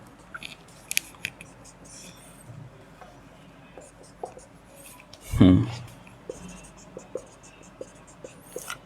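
Marker or chalk writing on a board during a poetics lesson, scattered light scratchy taps and strokes, close, with a louder thump midway and a voice heard briefly.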